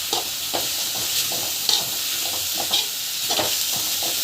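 Spices such as chili powder and chaat masala being stirred and sautéed in a pan, a steady close sizzle with repeated scraping stir strokes at a loose rhythm, no voices.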